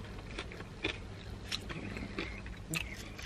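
Crunchy battered fried cod from a fish-and-chip shop is bitten and chewed, with a few faint, sharp crunches spaced irregularly at close range over a soft background hiss.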